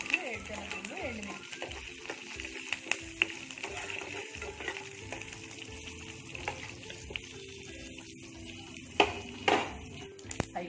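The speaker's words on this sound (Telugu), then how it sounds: "అవి వేగిపోయినాయి కదా, పోపులు వేగినాయి." Tempering spices (cumin, mustard seeds, chana dal, dried chillies and peanuts) frying in hot oil, giving a steady crackling sizzle with pops and a few stirring clinks. A voice is heard faintly underneath.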